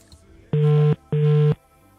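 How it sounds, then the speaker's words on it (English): A telephone ringing tone plays as two steady, even electronic bursts about half a second apart, clear and alone on a quiet line. "Still ringing."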